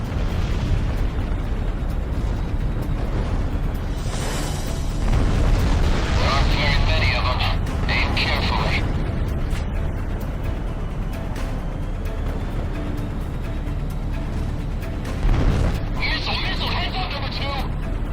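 Armored ground vehicles blown up in Ace Combat 6 on Xbox 360: repeated deep booming explosions over a constant roar of jet engines, with radio voices talking throughout.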